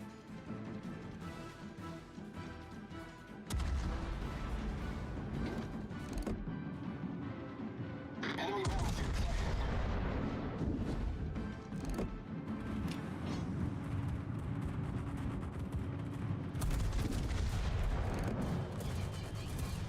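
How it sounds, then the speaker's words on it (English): Anti-aircraft guns firing from a battleship in World of Warships: sustained, loud, rumbling bursts of gunfire that continue throughout. "Provide anti-aircraft fire support."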